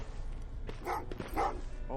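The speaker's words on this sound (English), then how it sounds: "Well, what's with the dogs?" Dogs barking in the video game Terminator: Resistance, a few short yips and barks over the game's background sound, with a voice talking along with them.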